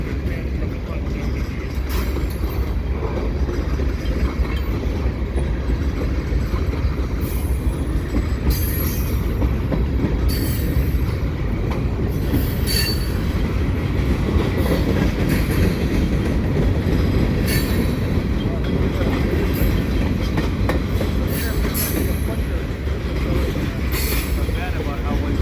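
A CSX and CPKC freight train hauling hopper cars rolls steadily past at Marshall Avenue: a continuous loud rumble with rail clatter and occasional high wheel squeal, while people talk over it.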